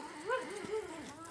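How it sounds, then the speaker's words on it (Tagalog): A dog in a Philippine neighbourhood gives a single drawn-out, whining bark or yowl, fairly faint and alone, with no talk over it. "Ayan, matapang na aso."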